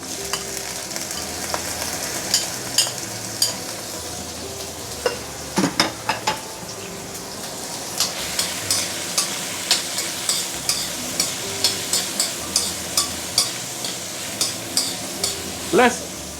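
Prawn shells stir-fry in ginger-infused oil over medium-high heat, a steady sizzle broken by regular scraping strokes of a spatula against the wok, close and fairly loud.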